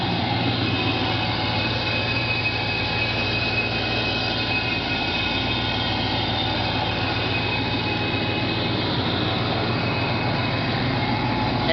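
A thin, constant high whistle from the intake of a 1994 Ford Mustang 5.0 rides over a steady engine drone, heard continuously without talk.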